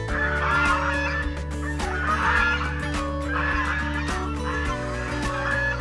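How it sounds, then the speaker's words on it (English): A group of ducks calls nearby, a dense, continuous chorus of harsh, honking cries overlapping without pause. "See these beautiful ducks."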